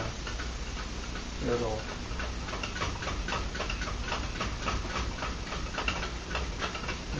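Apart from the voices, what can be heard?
tin can Stirling engine running down after flame is blown out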